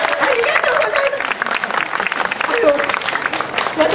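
An audience at the Osu Daido Chonin street festival claps to pick a song, with steady, dense applause at moderate volume and a few voices faintly mixed in.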